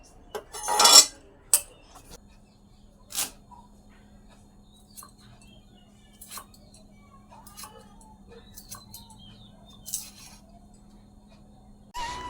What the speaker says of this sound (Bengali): চলো সজনা ডাঁটাগুলো কেটে নিই